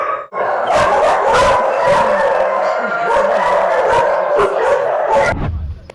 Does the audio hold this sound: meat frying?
no